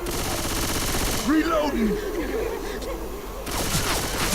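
Rapid automatic gunfire rattles in the zombie shooter Left 4 Dead 2, loud bursts at the start and end with a quieter stretch of game effects between, while players talk over it.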